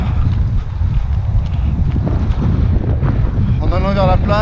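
Strong gusty wind buffets the microphone during a kitesurfing session on a squally day, a loud continuous roar rising and falling in gusts from start to finish, with a brief whistling tone near the end.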